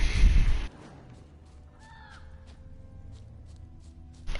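A crow caws a few times in The Witcher 3, distant and fairly faint over a low ambient outdoor hum, following a brief loud burst of game sound at the start.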